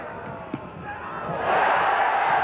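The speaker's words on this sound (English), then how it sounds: "A shout from the crowd there." A cricket crowd at a 1991 England versus West Indies Test match at Edgbaston rises into a swelling shout, moderately distant, after a faint thump and low murmur.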